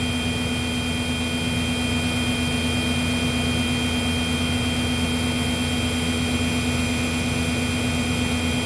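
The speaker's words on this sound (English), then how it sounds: "the brush roll's spinning at a higher RPM than what it's supposed to, because there's no resistance" A Sebo C3 vacuum cleaner runs steadily with its brush roll spinning freely at high speed, a loud constant motor whine and hum with strong tonal bands, no voices.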